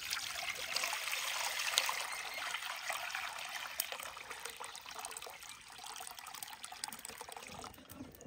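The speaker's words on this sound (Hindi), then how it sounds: "कढ़ाई में डाल लेंगे पानी।" Water pours into a wok set on a lit stove, a steady trickling splash that continues alone for several seconds.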